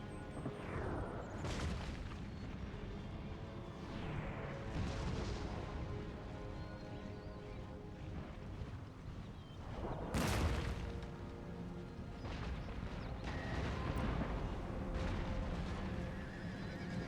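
Artillery guns firing in an Empire: Total War battle, heavy booms rolling out across a dense, continuous battlefield din, with horses neighing and whinnying throughout and one especially loud blast standing out partway through.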